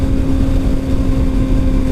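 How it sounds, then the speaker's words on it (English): Steady, loud drone of a 2019 Kawasaki Ninja ZX-6R's inline four-cylinder engine cruising on a freeway, with constant wind rush and a sustained tonal hum throughout, no talking. "I prefer the sound of an inline 4-cylinder engine."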